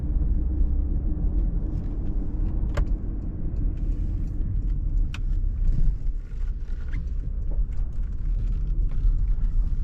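A Porsche Macan S with 340 horsepower is driving, giving a steady low engine and road rumble heard from inside the cabin, with a few faint clicks and no one talking.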